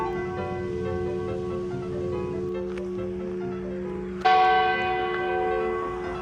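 Church bell of the First United Methodist Church in Ashburn, Georgia, ringing with long sustained tones, then a fresh strike that swells the sound; heard at moderate distance amid outdoor ambience.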